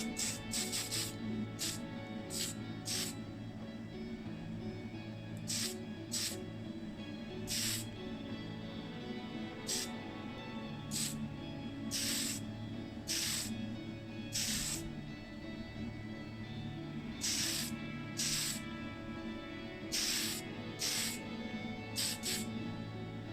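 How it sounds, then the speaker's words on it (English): Tamiya Fine Surface Primer in white sprayed onto a restored Matchbox Jeep No.72 model: a steady aerosol hiss runs throughout, broken by repeated short sharp bursts, close and even. "And it is now ready for my Tamiya Fine Surface Primer in white."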